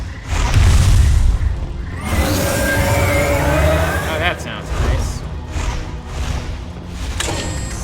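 Heavy booming explosions in the sky during a Mass Effect 2 Legendary Edition firefight against Vorcha of the Blood Pack, loudest in the first two seconds and then rumbling on with game sounds.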